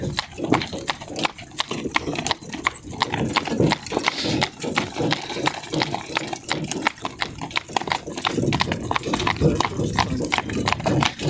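Mares' hooves clip-clop in a steady rhythm close by, with people talking over the clatter throughout.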